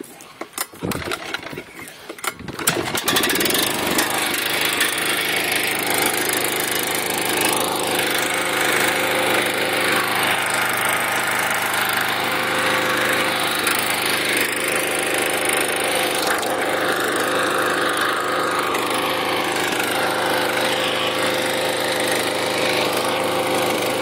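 A lawn mower engine is cranked with a few rough clattering starts, then catches and runs continuously at a steady, loud, buzzing drone close by for the rest of the time.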